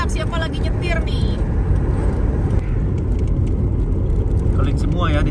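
Car driving along a road in Yunnan, a steady broadband road and engine rumble close by and continuous throughout, with people talking over it at the start and end.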